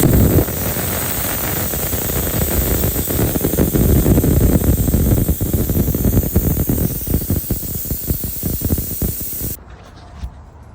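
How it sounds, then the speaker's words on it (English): Air tanks on a 2022 Mack mixer truck drain with a loud, steady, close hiss of escaping air. It holds for about nine and a half seconds, then cuts off abruptly. "you got to drain these secondary and primary air pumps right here"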